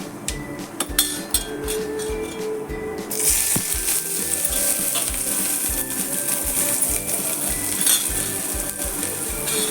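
Chopped onion and chili hit hot oil in a pan with dry spices, and a bright sizzle starts partway through, preceded by clinks and taps of utensils. The frying continues steadily to the end.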